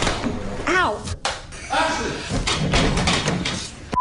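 A door slams backstage at a TV show pre-show set, with sharp thuds and clattering amid loud mixed voices and an exclamation, busy and close.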